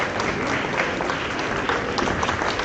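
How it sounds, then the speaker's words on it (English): Loud, steady applause from a graduation ceremony audience fills the hall as the Indian Ambassador to Japan is welcomed onto the stage, a dense continuous clapping with no break throughout. "Let us welcome him with a big round of applause as he comes onto the stage."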